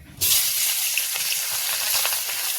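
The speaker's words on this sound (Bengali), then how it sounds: "তেলটা গরম হয়ে গেছে, তো মাছটা দিয়ে দেবো" Seasoned fish pieces dropped into hot oil in a kadai, a sudden burst into loud, steady close sizzling and spitting that holds evenly to the end, with no talk.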